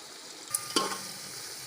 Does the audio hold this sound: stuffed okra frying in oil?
yes